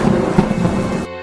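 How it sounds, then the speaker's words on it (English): A loud, dense wash of storm noise, heavy rain and low rumbling gusts, steady for about a second before cutting off abruptly to near silence. "That night, the wind howled and rain poured down."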